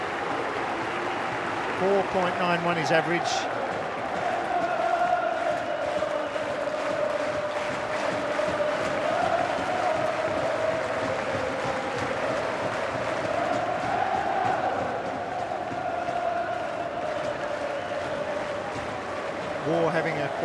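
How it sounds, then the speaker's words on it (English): A large cricket crowd at the MCG roars steadily through a 1998 Ashes Test finish, a dense sustained swell of cheering that rises and falls, with a commentator's voice briefly over it. "Listen to the crowd."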